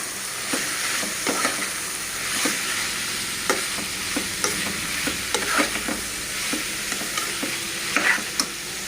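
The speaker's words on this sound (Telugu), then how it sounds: "దొండకాయలు పచ్చిశనగపప్పు అన్నీ వేసి బాగా కలుపుకోవాలండి" Thinly sliced ivy gourd and chana dal curry stirred in a pan over medium flame, with a steady bright sizzle under irregular close spatula scrapes and taps, and no speech.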